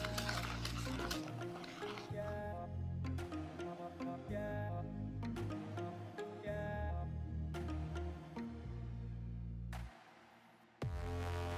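Flour being mixed into dough for almond shortbread biscuits, heard as repeated bursts of scraping and knocking from a utensil against a bowl in uneven strokes, separated by short pauses and ending with a sudden louder scrape.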